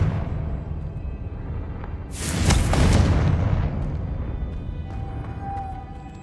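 The Confringo fire spell in Hogwarts Legacy erupts about two seconds in as a loud, broad explosive blast, then rolls off over several seconds into a lingering rumble above quiet game ambience.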